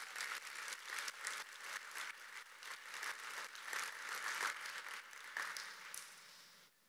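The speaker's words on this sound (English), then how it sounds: "How about one more big round of applause for all of those 4 innovation stories?" A conference audience at a corporate innovation summit gives a sustained round of applause that swells and holds, then thins out and fades toward the end.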